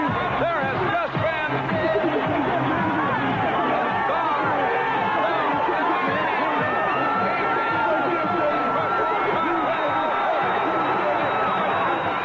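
A loud capacity crowd roars and chatters steadily in a WWF wrestling arena, a dense unbroken wall of cheering and babble that fills the whole stretch.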